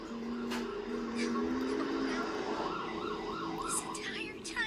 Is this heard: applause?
no